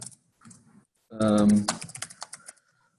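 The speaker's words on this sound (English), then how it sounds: "So I'll just type." A computer keyboard is typed on during an ICT industry meeting, with a quick run of light clicks following a short stretch of talking.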